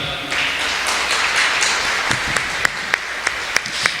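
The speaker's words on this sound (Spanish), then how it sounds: "Démosle un aplauso al Señor." A church congregation applauds in a dense wash of clapping that thins into a few distinct, sharp claps toward the end, heard from within the room.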